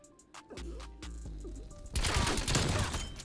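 Milano 821 submachine gun fire in Black Ops Cold War: a few spaced, punchy shots followed by a loud sustained burst of rapid automatic fire in the game.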